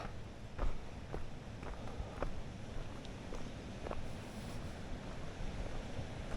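A river near Deschutes Falls rushes steadily as a continuous broadband roar, with a few faint footsteps crunching over it and no talking.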